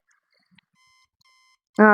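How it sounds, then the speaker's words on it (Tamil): An alarm clock rings in Internet Cafe Simulator after sleeping until morning, a loud harmonic electronic tone bursting in suddenly at the end, preceded by faint quiet game beeps and tones. "இப்போ போய்ட்டு இதை அலாரம் ஆஃப் பண்ணணும்."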